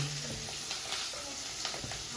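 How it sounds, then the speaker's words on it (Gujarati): Green chillies, curry leaves and sesame seeds spluttering in hot oil, a loud dense sizzle with scattered pops and crackles throughout, close and with no talk. "મરચાં, લીલા મરચાં નાખ્યા ને કઢી પત્તા. ને આ નાખશું તલ"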